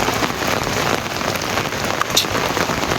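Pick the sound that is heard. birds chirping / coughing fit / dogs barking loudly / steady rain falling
steady rain falling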